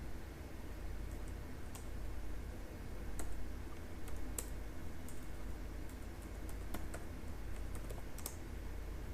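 Typing a command on a computer keyboard, with irregular bursts of soft clicking keystrokes over a steady background hiss, close and moderately quiet.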